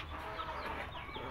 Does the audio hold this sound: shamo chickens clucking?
yes